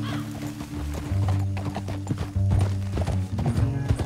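Horses gallop in Red Dead Redemption 2, with rhythmic hoof clip-clops over tonal game music and low rumble, plus a brief neigh, close and steady throughout.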